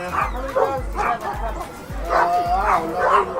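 A shepherd dog, one of several in a Detroit neighbourhood, lets out rhythmic close barks and yips mixed with whimpering, about six evenly spaced calls, while people talk nearby.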